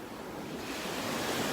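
Ocean surf on the beach at North Naples, Florida, rushes in as a broad, steady wash that swells slightly louder, with wind buffeting the microphone.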